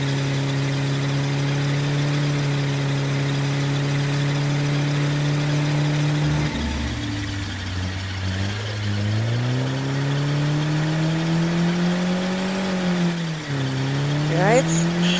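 A car engine in the video game State of Decay 2 drones steadily, then drops and climbs again in pitch as it revs up, with a second revving surge near the end.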